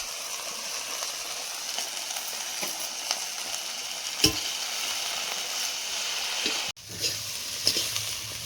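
Bohar bhaji greens frying in a pan as they are stirred, a soft continuous sizzle broken by occasional utensil knocks and scrapes.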